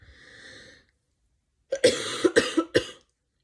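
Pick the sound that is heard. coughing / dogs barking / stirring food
coughing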